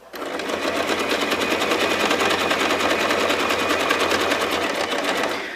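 A sewing machine runs a zigzag stitch across fabric for a basket, giving a fast, even mechanical clatter that holds loud and steady for several seconds before easing off at the end.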